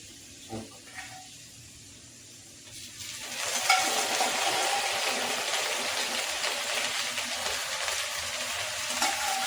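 Meat being added and stirred into browned onions in a pressure cooker, starting with a few quiet clinks before a loud, continuous sizzle and frying hiss takes over and holds steady to the end.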